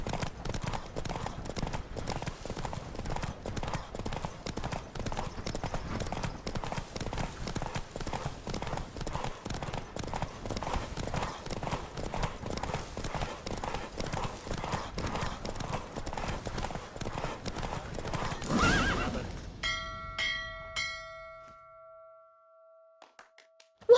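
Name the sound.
galloping horse hooves in The Witcher 3 video game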